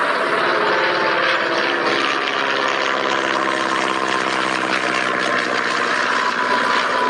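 Gary Powers' spy plane taking off: a loud, continuous engine roar with steady tonal drone, holding constant and close throughout with no pauses.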